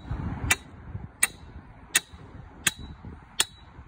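Hammer blows strike at a steady beat, five sharp ringing impacts spaced about seven tenths of a second apart, fairly close and loud against a quiet background.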